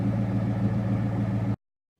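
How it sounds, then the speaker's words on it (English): A Ford Mustang engine idling up close, a steady low rumble for about a second and a half before cutting off abruptly into silence. "This is the sound of my awesome Mustang."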